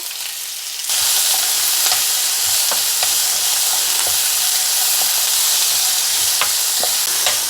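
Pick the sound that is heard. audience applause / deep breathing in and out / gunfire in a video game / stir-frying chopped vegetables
stir-frying chopped vegetables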